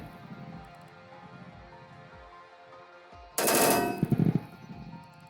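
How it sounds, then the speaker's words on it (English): An NSV 12.7 Utyos heavy machine gun fires one short, loud, rapid burst outdoors, standing out sharply against a low steady background. "Heavy machine gun, NSV, legendary power, reliability, and efficiency based on modern technology."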